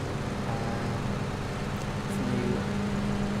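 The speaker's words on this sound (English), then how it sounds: "So new engine sounds for all the cars are in." Car engines in PUBG on the new map, a steady low rumbling drone that holds throughout at moderate level, with a slight rise in pitch near the end.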